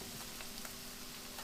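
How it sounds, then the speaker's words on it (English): Peeled sweet potato chunks cut bite-sized dropped into a vegetable curry pot, giving a brief, steady sizzle with faint light taps, close and alone. "So we start with the sweet potatoes, which I've peeled and chopped in bite-sized chunks, and just drop them in."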